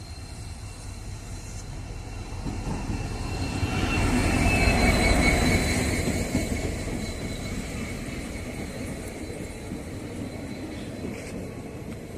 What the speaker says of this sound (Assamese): এই চাওক আমাৰ ট্ৰেইন আহি পালে